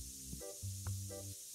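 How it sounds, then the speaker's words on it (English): Spray can hissing in the shop-simulation video game TCG Card Shop, a few short hiss bursts laid over quiet looping background music, with no talking. "Oh gosh, I forgot to spray that."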